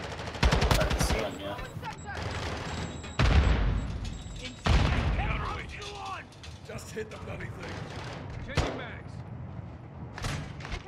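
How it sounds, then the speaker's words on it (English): Gunfire from a Modern Warfare 2 raid on veteran mode rattles in sharp bursts and single heavy shots amid mechanical clanks, with players talking over the action. "Can we kill these guys that are shooting us?"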